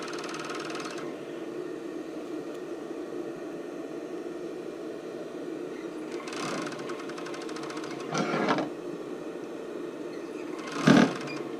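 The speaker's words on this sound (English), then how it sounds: "And then we're going to just stitch that side." A sewing machine stitches the side of a sports bra strap with a zigzag stitch, a steady close whir running throughout with slight surges in speed; no one talks.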